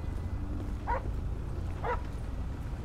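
A police dog in GTA 5 LSPDFR gives two short, faint yips or barks about a second apart over a constant low engine and traffic rumble.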